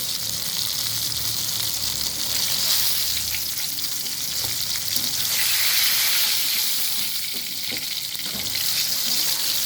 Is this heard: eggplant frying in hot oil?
yes